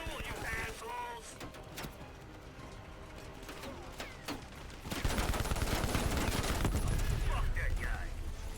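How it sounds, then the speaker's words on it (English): Gunfire rattles through Call of Duty Black Ops Cold War combat, with scattered single shots and bursts early, then dense sustained automatic fire from about five seconds on, loud and close, amid game mechanical noises. "Keep shooting."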